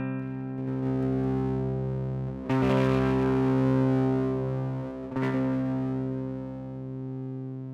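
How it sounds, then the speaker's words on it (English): A sustained distorted electric guitar tone from a Kontakt virtual distortion pedal, gritty and loud, with two fresh strums that ring out and slowly decay. "a straightforward distortion with a distortion amount dial and an output level"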